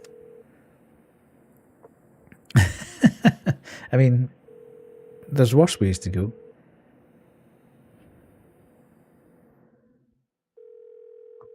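Touch-tone dialing and a steady dial tone from a telephone in an indie horror video game, the tone humming at the start, middle and end around a burst of short keypad beeps and a person talking over it.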